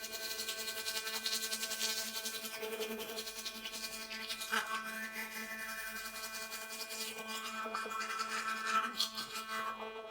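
A Laifen Wave Pro electric toothbrush brushes teeth with a steady high buzzing hum and wet scrubbing and rubbing, continuous and close for about ten seconds, with pitch shifts as the head moves.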